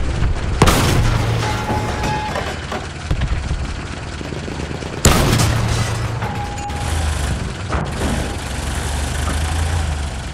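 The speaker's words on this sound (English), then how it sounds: "Enemy coordinates have been sent to our artillery." Artillery strike explosions in the video game Battlefield 1, with two heavy booms several seconds apart rumbling over a steady low engine drone, no talk.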